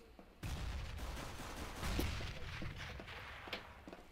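Sustained gunfire in the game CS:GO: a dense, continuous volley of shots with sharp cracks on top. It plays fairly quietly for several seconds without talking.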